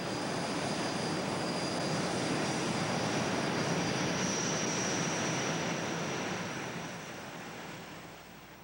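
An aircraft at the Southeast Alaska Regional Airshow in Juneau roars with a dense, steady broadband rush that stays loud and constant, then eases off and fades somewhat near the end.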